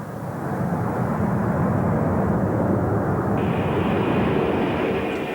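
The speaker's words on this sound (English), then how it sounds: "Powered with 3 powerful Rolls-Royce RB211 jet engines." A Saudia Lockheed L-1011 TriStar wide-body jet with three Rolls-Royce RB211 engines roars steadily, a loud broad engine rumble with a faint high whine holding throughout.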